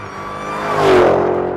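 An electric Dodge muscle car plays an amplified synthetic engine sound, said to reach 126 decibels, as loud as a Hellcat V8. It swells into a rising rev that peaks midway, then trails off with a fading whine.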